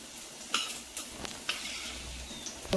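Puffed rice cutlets shallow frying in a little oil in a pan, a soft steady sizzle with a few light clinks of a spatula against the pan, close and fairly quiet.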